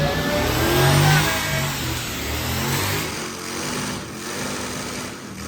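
A Lincoln Mark VIII's all-aluminum 4.6-liter dual-overhead-cam 32-valve V8 revs loudly up close, swelling and easing in a continuous engine roar with no talk over it.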